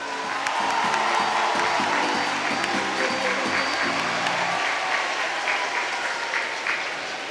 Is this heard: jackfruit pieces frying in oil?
no